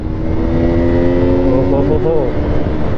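A serviced motorcycle with fresh oil and filters being ridden, its engine droning steadily with a rising and falling tone under close wind rush, while a rider talks over it throughout.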